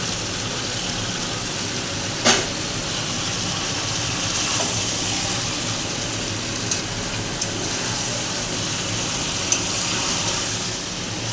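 Chicken curry with potatoes fries in oil in a home kitchen pan, a steady crackling sizzle throughout with a few soft clinks of stirring.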